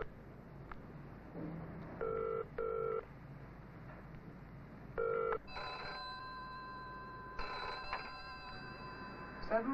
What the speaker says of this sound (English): Ringing. That's a ringing sound.